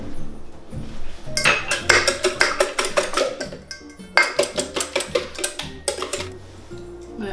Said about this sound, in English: And then we're gonna whisk it.